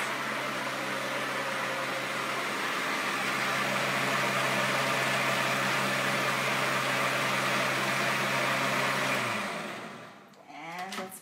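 A motor whirs steadily and loudly while mixing vanilla and cacao pancake batter, then winds down and stops after about nine seconds, ending with a short rattle.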